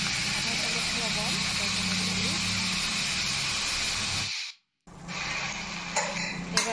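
Radish greens hit hot oil seasoned with five-spice and dried chili, giving a steady broadband sizzle with a low rumble beneath. It cuts out briefly near the end, then resumes with a few sharper crackles.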